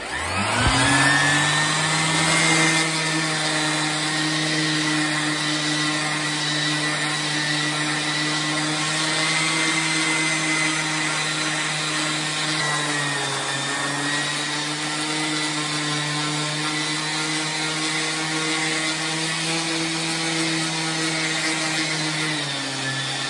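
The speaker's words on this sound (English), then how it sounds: "sanding with 220 grit, because the coarse grit on that belt sander leaves lots of scratches" Power sander working a wooden box lid with 220 grit, a loud steady motor whine with a faint dip in pitch midway as pressure shifts, droning continuously and close with no voices.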